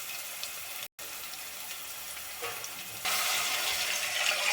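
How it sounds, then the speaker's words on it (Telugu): Water pours steadily into a pot for appam dough tempering, a soft hiss that briefly drops out, then swells louder and fuller toward the end. "సాల్ట్ వేసుకున్న తర్వాత అందులో వాటర్ పోసుకోవాలి"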